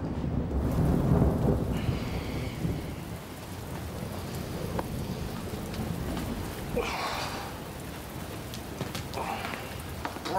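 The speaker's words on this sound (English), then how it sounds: "It's raining." Steady rain pours down outdoors early in the morning in a dense, continuous wash that is loudest at the start, with a few brief higher sounds breaking through later.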